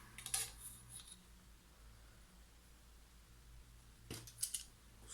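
Scissors cutting paper for an autumn-themed craft project, two short crisp snipping bursts near the start and end with quiet room hiss between.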